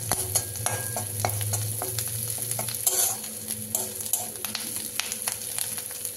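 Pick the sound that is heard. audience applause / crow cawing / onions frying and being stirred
onions frying and being stirred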